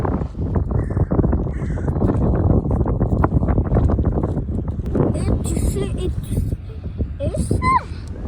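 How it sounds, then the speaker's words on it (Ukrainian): Steady gusty wind roars across the microphone outdoors beside a river, with a few faint bird calls and distant voices near the end. "Чим ближче до річки, тим вітряніше ставало."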